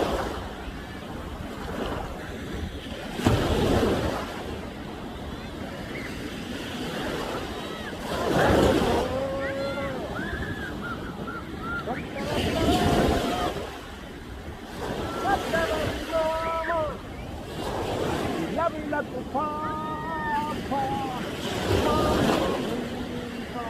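Ocean waves breaking on the shore in Saipan, swelling and crashing surges every few seconds under steady wind buffeting the microphone, with voices talking intermittently over the surf.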